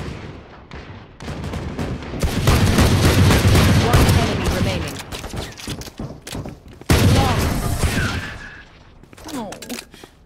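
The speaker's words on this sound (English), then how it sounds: "Placing swarm grenade. Swarm grenade out." Swarm grenades going off in the tactical shooter Valorant, a loud dense burst of rapid popping explosions and gunfire that swells, drops out, then surges again before fading, with a voice talking over it.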